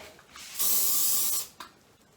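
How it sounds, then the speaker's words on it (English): Hair lacquer sprays from a can onto a blow-dried, volumized hairstyle in a single soft hiss of about a second, close and fairly quiet, with no talking. "Put some hair lacquer."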